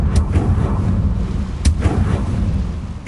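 In Hogwarts Legacy, the Confringo fire spell lands as loud, booming blasts: two sharp impacts roughly a second and a half apart, set in a rumbling, explosive wash.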